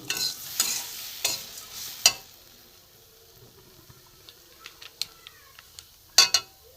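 Vermicelli fries gently in a pan on low heat, a spoon scraping and stirring in several short, distinct strokes with quiet gaps between, plus a few faint clicks.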